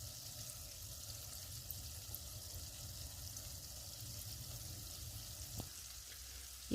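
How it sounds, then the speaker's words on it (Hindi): Gulab jamun made with milk powder fry in hot oil, a soft, continuous hiss and crackle of sizzling that stays even and fairly faint throughout, broken by one brief knock near the end, with no one talking. "ये गुलाब जामुन अब फ्राई हो चुके हैं सारी साइडों से।"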